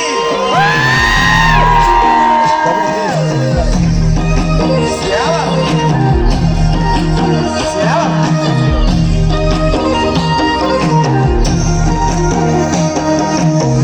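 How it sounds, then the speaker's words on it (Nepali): A large festival crowd at an outdoor concert in Pokhara cheers, whoops and yells over loud amplified music with a thumping beat, the noise continuous and close throughout. "एकचोटि खै हल्ला सुनाउँछ सबैको प्लिज"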